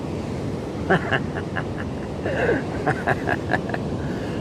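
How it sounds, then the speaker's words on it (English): Ocean surf at St. Mike's beach, a steady broadband wash of breaking waves with wind noise on the microphone and a few faint chirping sounds over it, heard near and continuous. "Nice waves here at St. Mike's this morning."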